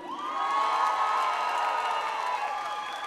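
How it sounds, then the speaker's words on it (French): A pageant audience at the Miss Wallis & Futuna gala cheers and claps for a candidate, a loud, sustained wash of crowd voices and whoops with a rising-falling tonal swell across the whole stretch. "on l'applaudit."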